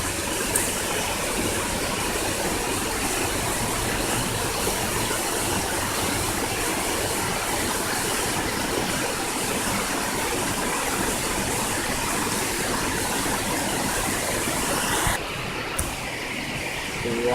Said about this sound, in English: I'm here at the waterfall today, smoking.